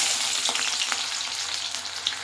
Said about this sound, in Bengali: এবার পেঁয়াজগুলো দেবো।